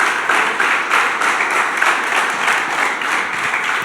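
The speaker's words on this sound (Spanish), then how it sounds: "¿Por qué no le das tu mejor aplauso al Señor en esta mañana?" Church congregation clapping during a Sunday morning service, a loud sustained wash of many hands with a gently pulsing rhythm, close and continuous with no talk over it.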